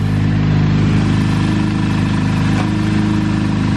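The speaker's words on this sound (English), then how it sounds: "it still wants to idle a little high when it's hot" A K24 engine in an Acura Integra idles high and hot on a dyno, with no idle air control valve. The drone is loud, steady and close, a constant rumble that stays unbroken for the whole stretch.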